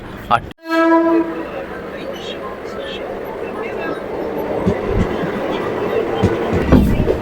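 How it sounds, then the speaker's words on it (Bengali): A Diamond Harbour local train near Kolkata sounds a loud, sustained horn blast, then carries on with a continuous rumble of rolling wagons. People talk over the running train. "আমাদের পিছনে দাঁড়িয়ে আছে ডায়মন্ড হারবার লোকাল"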